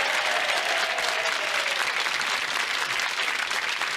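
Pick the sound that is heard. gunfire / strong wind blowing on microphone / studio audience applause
studio audience applause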